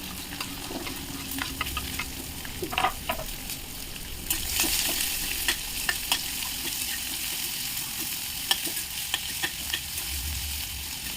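Chopped onion, curry leaves, cumin and garlic cloves sizzle in a pan while a spoon stirs and scrapes at intervals; a steady frying hiss swells midway, with occasional sharper clicks of utensil against the pan, close and alone.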